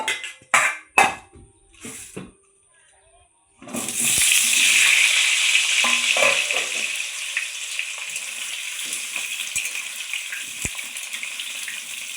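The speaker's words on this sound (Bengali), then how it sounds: "এই আলুগুলো ভেজে নেব" Potato and papaya pieces drop into hot oil in a pan, starting a loud, steady frying hiss that runs for about eight seconds after a few sharp knocks and clatters of handling.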